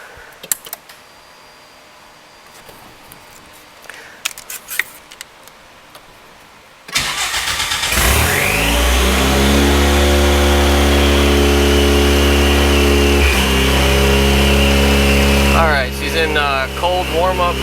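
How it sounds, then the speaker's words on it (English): A Ford EcoBoost-swapped DeLorean cranks and fires after quiet shuffling, then settles into a loud, steady high idle during cold warm-up, with a brief blip of revs near the end. "We're going to start the car."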